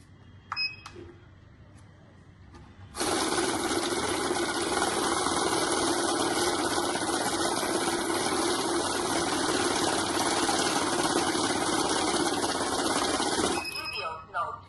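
Currency counting machine counting banknotes that include a fake note, a loud steady whirring flutter lasting around ten seconds, with brief clicks before it starts and a sudden stop near the end.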